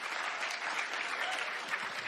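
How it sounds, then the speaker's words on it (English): An audience at an Overwatch art panel applauds steadily for a senior character animator, dense and even throughout with no talking. "Hell yeah, give him a round of applause"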